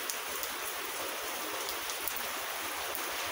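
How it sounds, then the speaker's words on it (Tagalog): Heavy typhoon rain pours down steadily in a dense, even roar that fills the scene with no breaks and no voices. "Lakas ng ulan. Pero lumalakas pa rin siya."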